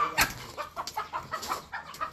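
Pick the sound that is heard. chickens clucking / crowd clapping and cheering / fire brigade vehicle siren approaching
chickens clucking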